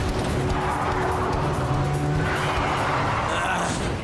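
Cartoon car driving along with tyre skidding and engine noise, steady and fairly loud throughout, with a cartoon voice faintly under it.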